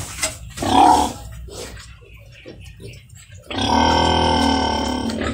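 Breeding sows on a pig farm grunt close by: a loud guttural grunt, a few softer snorts, then a long rough, drawn-out squealing grunt.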